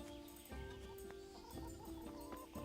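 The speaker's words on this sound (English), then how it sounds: "Those chicken are still here." Chickens in the medieval game Kingdom Come: Deliverance, several soft clucks close by over a low steady ambient hum with faint background tones, no talk.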